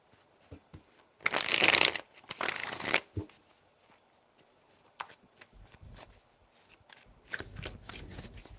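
Tarot cards are shuffled up close in two quick riffling bursts, followed by softer scattered taps and slides as the deck is handled and laid out.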